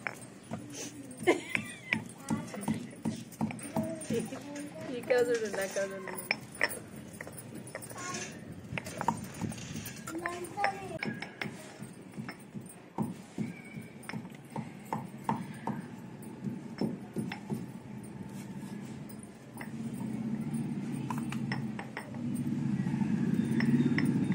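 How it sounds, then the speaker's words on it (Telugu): Roasted onions pounded by hand for a masala, giving a run of sharp, fairly close thuds and clinks in an irregular rhythm that fades to a steady background hum toward the end. "ఆనియన్స్ అయితే అవి కూడా ఇప్పుడు దంచాలన్నమాట, గట్టిగా దంచానే ఉండాలి"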